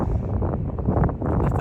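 Wind gusts across an open golf course, buffeting the microphone with a steady low rumble that swells and dips over a short stretch, with no talk heard.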